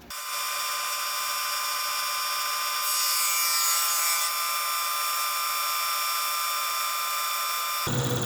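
A reverse fly cutter with a flipped insert cuts metal, producing a continuous high-pitched whining, ringing tone that rises briefly in intensity midway before stopping abruptly near the end.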